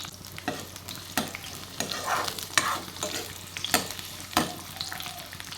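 Onion frying in mustard oil with a bay leaf, a soft steady sizzle broken by repeated scraping stirs of a spatula at irregular intervals, close up and without talk.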